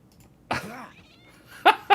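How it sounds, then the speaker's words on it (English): A cat in a video game gives a drawn-out meow-like growl, then two short sharp yowls, fairly close against a quiet background. "It like kind of growls at me."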